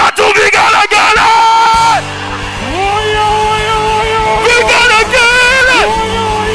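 A gospel concert crowd ululates in loud, sustained high trilling waves, rising in two bursts over steady band music with a voice calling out.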